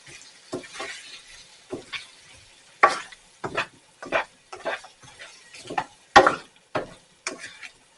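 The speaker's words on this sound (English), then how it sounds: "Then you stir them around." Already-cooked carrots get stirred around in a pot of miso soup with ramen, producing a series of close, irregular scraping and clinking strokes with quiet gaps between them and no voices.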